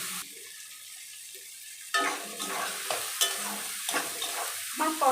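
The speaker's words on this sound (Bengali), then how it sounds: "আলুগুলোকে দিয়ে মশলার সঙ্গে ভালো করে কষিয়ে নেব।" Potatoes are fried and stirred with spices in a pan for a vegetarian lentil-fritter curry. Near silence gives way to a sudden sizzle, then repeated scraping stirs over the steady frying.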